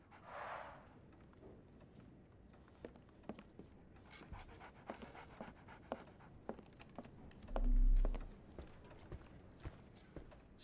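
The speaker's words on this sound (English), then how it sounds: "So, Barnes has a dog now." A dog pants in the video game Sherlock Holmes: The Awakened, quick faint breaths running steadily at low level, with a louder brief sweep near the end and light scattered clicks.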